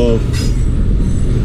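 Loud, close rumble of the Chaman passenger train moving between Quetta and Chaman, Pakistan, with steady low wheel noise and a brief metallic squeal.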